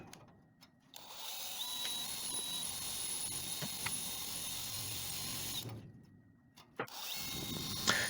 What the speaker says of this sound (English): Just drilling out the resistance welds.